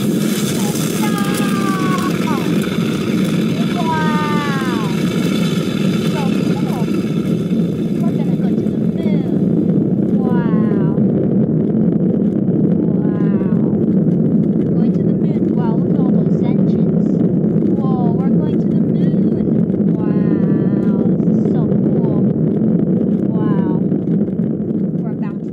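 An Artemis rocket engine in Minecraft Education Edition roars in a steady, loud low rumble that lasts throughout, with a voice speaking over it.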